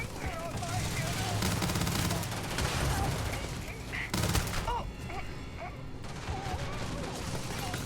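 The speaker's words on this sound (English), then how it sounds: "There's so much fire and shit going on. This is a firefight in a place you shouldn't be having a firefight." Dense, continuous gunfire from a firefight in the video game Starfield, with rapid bursts and heavy volleys running throughout at close range, a voice occasionally heard under the shooting.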